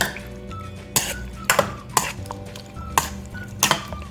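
About 1.5 pounds of pork being mixed with egg marinade in a bowl for sweet and sour pork, heard as a series of sharp clinks and scrapes at an irregular pace over a soft background hum.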